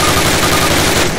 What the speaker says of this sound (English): Fire 10 rounds at your target.